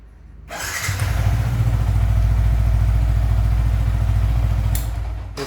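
A Yamaha YZF R15 V3 motorcycle with a new battery starts up and runs close by, a steady rapid idle chatter that swells in, holds evenly for about four seconds, then cuts off.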